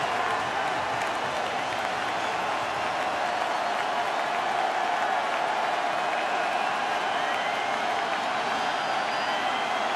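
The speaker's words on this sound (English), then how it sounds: "Crowd loud in Pittsburgh on 3rd and 15." Loud crowd roar at a Georgia Tech at Pittsburgh college football game on a third-and-15 play, a steady wall of noise with applause and cheering filling the stadium throughout, with faint talk underneath.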